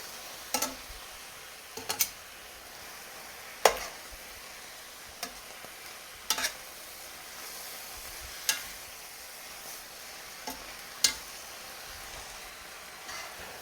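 Spinach sautéing quietly in a pan with garlic, a faint steady sizzle punctuated by sharp, irregular clicks of tongs against the pan about every second or two.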